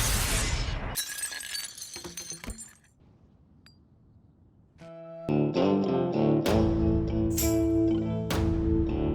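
A glass aquarium wall shattering in the animated film Rango, a loud crash of breaking glass followed by tinkling shards, a quieter pause, then renewed loud crashing and clinking alongside dramatic score.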